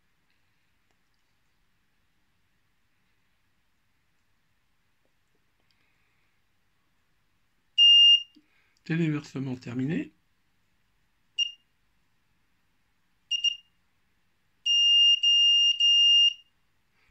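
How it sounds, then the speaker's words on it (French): A buzzer on an ATtiny85 development board sounds a series of sharp electronic beeps, short isolated chirps and then a longer sustained tone, with a brief spoken line between them in a quiet room. "On va mettre un buzzer plus long."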